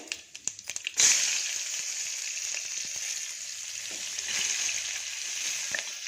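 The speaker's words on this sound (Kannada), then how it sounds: "ಎಲ್ಲ ಹಾಕ್ಬಿಟ್ಟು ಫ್ರೈ ಮಾಡ್ತೀನಿ ಸ್ವಲ್ಪ ಹೊತ್ತು" Chopped ivy gourd and onion tossed into a hot pan set up a steady, loud sizzle, preceded by a second of clattering as the pieces go in, then a continuous frying hiss with no talking.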